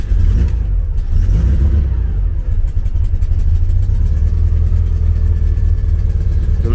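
A car engine fitted with Weber IDF carburettors idles loud and close, a steady low rumble with an even pulsing throb that holds throughout without talk.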